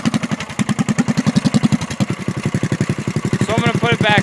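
The engine of a three-seater go-kart runs with its muffler removed, giving a loud, close, rapid chugging beat that holds steady throughout, with a brief raised voice near the end.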